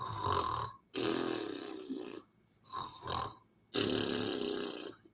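A voice imitates loud snoring in three long, rasping, throaty bursts separated by short silences, close and prominent with nothing else behind it.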